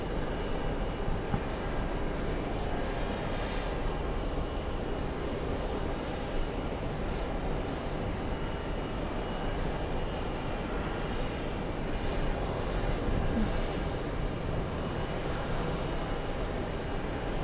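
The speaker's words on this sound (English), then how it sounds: "Iraqi government 777 is departing now" Iraqi government Boeing 777 departing, a steady broadband engine roar that holds at a constant, moderately distant level throughout, with no talk.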